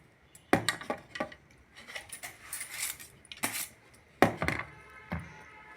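Steel plate clanking against a pot of beetroot halwa as it is set on top for inverting, with sharp metallic knocks and scrapes in irregular bursts, close and fairly loud.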